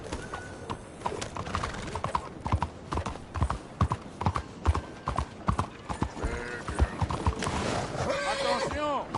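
In Red Dead Redemption 2, a horse gallops with sharp, rhythmic hoofbeats and then neighs loudly near the end, while voices speak over the action.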